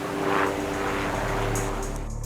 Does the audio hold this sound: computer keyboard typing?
no